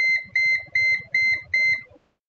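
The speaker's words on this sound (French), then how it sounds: "Ça c'était le bip bip bip de d'habitude." Five short, bright electronic beeps in a steady rhythm from an Acer E5-573G laptop diagnostic error, close and clear, then silence.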